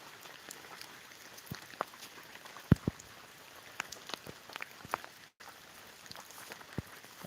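Steady rain falls at an outdoor temple site with a banyan tree, a dense patter of drops on surfaces with scattered sharper splashes, continuous and fairly near with no voices.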